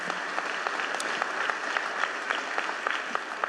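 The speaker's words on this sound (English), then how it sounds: "can we please give a round of applause for the Kimmel Center's leadership" An audience at the Kimmel Center in Philadelphia claps steadily and warmly, a sustained round of applause with no voices over it.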